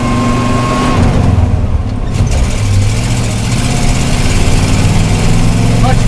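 A vehicle engine idles steadily and loudly after a cold start on a slippery, slimy driveway, giving a continuous rumbling drone that holds even throughout with no breaks.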